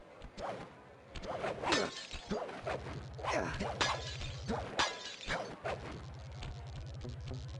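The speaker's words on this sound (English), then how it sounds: "Destroy slot machines." Slot machines shatter in a casino level of Sly Cooper and the Thieves Raccoonus, a run of repeated crashing, smashing game effects with whooshes and mechanical clatter over a looping electronic soundtrack.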